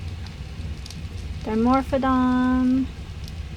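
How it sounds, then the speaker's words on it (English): Rain falls in the ARK survival video game as a steady soft hiss throughout, with someone speaking briefly over it in the middle. "it's now unfortunately raining"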